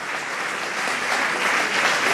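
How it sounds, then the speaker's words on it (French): An audience applauds Albert Assadourian at a ceremony, a steady, dense wash of clapping that holds and swells slightly over a couple of seconds with no voices on top. "je vous demande, si vous en êtes d'accord, d'applaudir Albert Assadourian pour son parcours"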